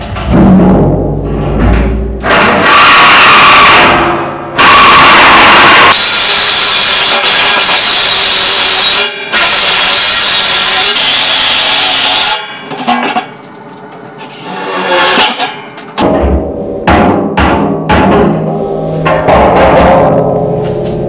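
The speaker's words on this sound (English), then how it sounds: "That's just the starter for the jigsaw." A jigsaw cuts a circular hole in the top of a metal drum for a waste oil burner, its loud rasping buzz running in long continuous bursts with brief pauses between passes.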